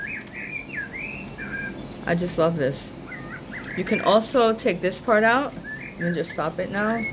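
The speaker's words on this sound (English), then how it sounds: "you hear the birds chirping" Small birds chirp and tweet in the background with short, repeated calls, while someone talks over them close by.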